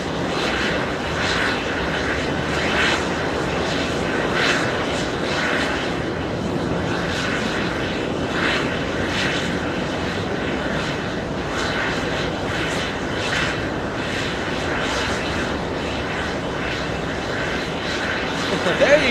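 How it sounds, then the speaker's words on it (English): A Bombardier CRJ 900 regional jet takes off at JFK, its engines giving a steady, loud roar that holds for the whole stretch, with a voice talking over it in places. "CRJ 900 lifting off."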